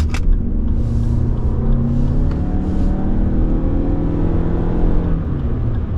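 A 2023 Lexus RX 350h hybrid accelerates hard in sport mode, its engine giving a low, steady rumble that climbs in pitch, heard from inside the cabin with continuous road noise.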